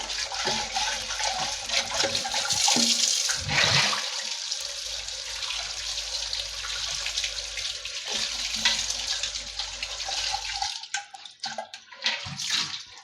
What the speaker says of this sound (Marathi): आता हा माठ आहे ना तो आपला स्वच्छ धुऊन झालेला आहे अगदी आतून आणि बाहेरून सुद्धा